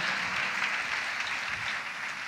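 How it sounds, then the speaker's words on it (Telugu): A congregation applauds in praise during a church message: continuous, even clapping from many hands, fairly distant and moderate in level, with no voices over it. "చప్పట్లు కొడుతూ దేవునికి స్తోత్రం చెప్పండి అది గట్టిగా"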